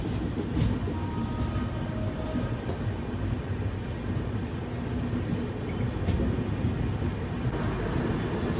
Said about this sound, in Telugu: సో మన ట్రైన్ వచ్చేసి ఖమ్మం నుంచి అయితే బయలుదేరిపోయింది